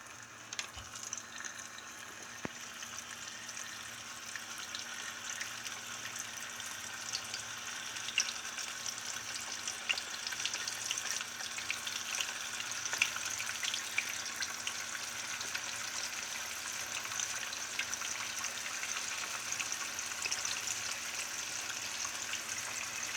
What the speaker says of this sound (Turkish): Şimdi bunları yağda kızartacağız